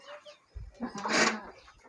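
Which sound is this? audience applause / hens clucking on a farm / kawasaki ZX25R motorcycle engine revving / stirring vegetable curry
hens clucking on a farm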